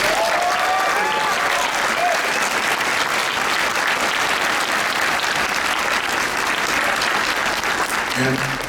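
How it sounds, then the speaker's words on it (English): Sustained applause from a large crowd at a San Diego Comic-Con 2024 panel, steady and loud throughout with dense clapping and a few faint cheers. "I have to give her always a big round of applause."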